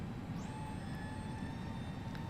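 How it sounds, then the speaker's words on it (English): Steady whine of the A320 yellow electric hydraulic pump in the FS Labs flight simulator cockpit, a constant hum with tonal pitches rising at spin-up and holding over a broad rushing background. "That noise is the yellow electrical pump."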